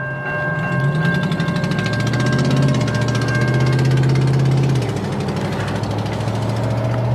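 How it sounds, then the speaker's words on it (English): A loud, rumbling diesel locomotive engine with an exhaust leak runs steadily, with a low throbbing drone that rises in pitch and then drops back, plus raspy, chuffing exhaust noise throughout. "How much of an exhaust leak do you want?"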